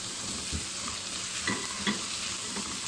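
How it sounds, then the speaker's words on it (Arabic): Spices sizzle and are stirred in a hot pan for sabit fish with freekeh, a steady close frying hiss broken by a few soft scraping stirs, with no talking. "شوحوا يا جماعه اهو مع بعضين اهو التوابل الجميله"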